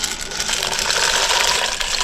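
Pasta tipped into a pot of rolling boiling water over a forest campfire, a steady close bubbling and gushing rush that stays dense and loud throughout.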